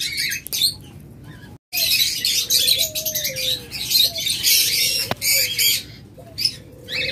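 Lutino red-eyed lovebirds in a group, a dense chorus of sharp chirps and squawks with a brief pause, then resumed chattering and a few clearer calls, close and lively.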